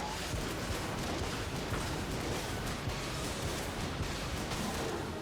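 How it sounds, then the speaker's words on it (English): Rapid, continuous gunfire from the twin-stick shooter game Enter the Gungeon, heard as a dense, steady barrage of shots at constant loudness with no pauses. "This guy is just shooting."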